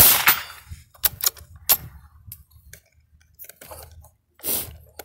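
Ruger American Rimfire rifle firing CCI rimfire ammunition at an outdoor range: several sharp, fairly close cracks come at uneven intervals, with quieter handling clicks and rustles between them and no talking.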